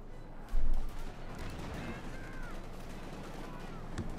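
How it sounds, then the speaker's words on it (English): Tank main gun and machine gun fire in Company of Heroes 2, a Panzer engaging riflemen: one heavy boom near the start, then a dense rattle of gunfire and battle noise under a commentator's voice. "Panzer Force from Mina going for the rifle and engaging them with main gun and machine gun"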